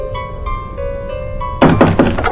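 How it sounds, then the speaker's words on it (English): A door is knocked several times in The House 2 horror video game, with a cluster of loud, hollow thuds cutting sharply over a steady tonal music backdrop. "I don't want to knock it again"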